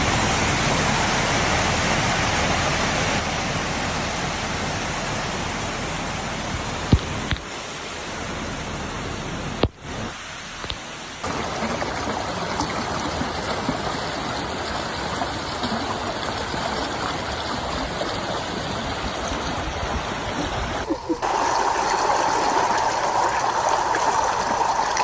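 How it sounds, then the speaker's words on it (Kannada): The flooded Sita river near Agumbe–Hebri after two days of heavy rain, overflowing across the road: a continuous close rushing roar of water, broken by a few abrupt cuts and level shifts. "ಕಳೆದ 2 ದಿನಗಳಿಂದ ಸುರಿಯುತ್ತಿರುವ ಭಾರೀ ಮಳೆಗೆ ಆಗುಂಬೆ ಹೆಬ್ರಿ ಸಂಪರ್ಕಿಸುವ ಸೀತಾ ನದಿ ಬಳಿ ನದಿ ಉಕ್ಕಿ ರಸ್ತೆಯ ಮೇಲೆ ಹರಿದ"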